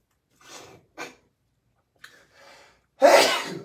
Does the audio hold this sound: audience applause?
no